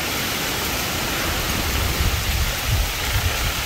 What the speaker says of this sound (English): you just hear this super loud wind coming through